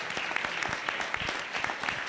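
An audience claps in the Senate of Canada after a lyre performance, a dense, even wash of many hands sustained at moderate loudness with no voices.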